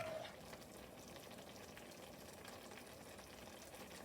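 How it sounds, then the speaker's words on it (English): A pot of tomato, garlic and spinach sauce for tortellini boils steadily, giving a continuous dense crackle and bubbling hiss at an even level throughout, with no voices. "It's come to a nice boil."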